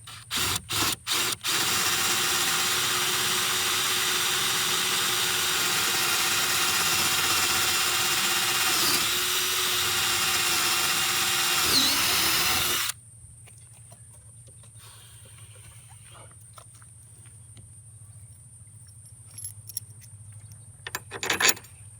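A power drill runs continuously for about thirteen seconds while fitting hardware on a floating dock, a steady whining grind, then cuts off leaving quiet with a high tone and a few light knocks near the end.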